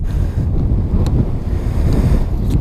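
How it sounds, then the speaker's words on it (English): Heavy outdoor wind batters the microphone during a roadside look at a 2016 Yamaha R3 motorcycle, a continuous loud low rumble with brief crackling bursts and no speech. "it's so windy out here, I nearly lost my phone then"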